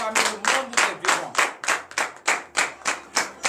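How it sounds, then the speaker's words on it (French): A church congregation claps in unison during prayer, a loud, steady rhythm of about three sharp claps per second, close and sustained with no voices. "donner de vives acclamations à notre Seigneur Jésus"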